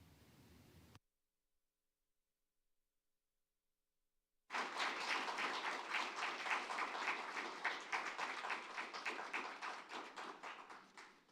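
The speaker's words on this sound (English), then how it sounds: "Another round of applause." A forum audience breaks into sustained applause, dense clapping that starts abruptly after a short silence and carries on loudly before tapering off.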